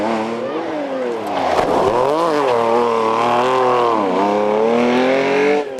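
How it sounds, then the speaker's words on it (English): A powerful Porsche rally car at a hairpin on a tarmac rally stage, its engine loud and close, revving hard with rising and falling pitch as it slows, turns and accelerates away. "their powerful Porsche as they take the Shannara hairpin"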